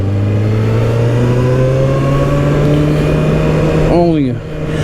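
A 2024 Kawasaki ZX-6R 636 sport motorcycle engine drones steadily, climbing slowly in pitch as it accelerates, then drops sharply near the end as the revs fall away.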